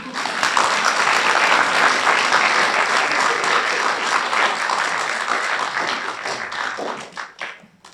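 Audience in a hall giving a sustained round of dense applause that holds strong for several seconds, then thins out and fades near the end.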